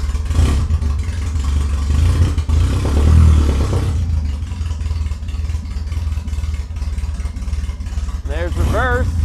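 An Austin-Healey engine runs steadily with a low rumble as the clutch is worked and first gear is engaged, talk heard over the idle and a brief whine near the end.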